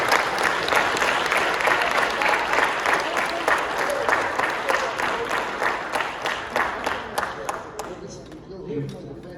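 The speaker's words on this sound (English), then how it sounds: "So, Gary, round of applause and thank you for all you've done." A large audience applauds at a retirement event, dense sustained clapping that fills the room for several seconds before thinning out and fading toward the end.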